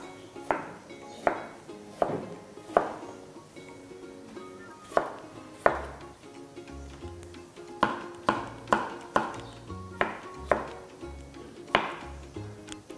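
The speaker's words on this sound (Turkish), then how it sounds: "Küp küp doğruyoruz patateslerimizi." Irregular knife chops dicing potatoes into cubes on a cutting board, sharp taps in quick clusters with brief pauses, close by and fairly quiet.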